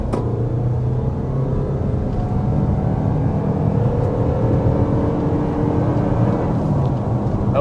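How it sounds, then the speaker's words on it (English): A 2026 Toyota RAV4 with a 2.5-liter four-cylinder engine accelerates hard from a standstill toward 60 mph. A steady, loud engine drone runs under constant road and wind rumble throughout, with no talking. "Okay, that was 60 miles per hour with this 2026 RAV4"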